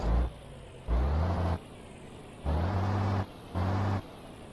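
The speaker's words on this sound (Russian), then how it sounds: "Я думаю, послушаете, да, теперь звук двигателя." Volvo F10/F12 truck engine in Euro Truck Simulator 2, a deep low diesel rumble swelling loudly three times in steady revving bursts with quieter idle gaps between.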